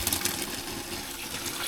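Cold water running from a motorhome kitchen tap, a steady close gush of flowing water that stays even for under two seconds.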